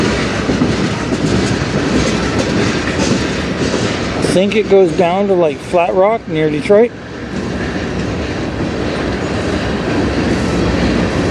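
CN freight train A491, a regular daily short-run train, rolling past in Sarnia, Ontario with a steady rumble and clatter throughout, while someone talks over it partway through.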